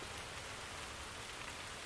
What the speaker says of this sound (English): The rain pitter-pattered on the surface of the leafy umbrella.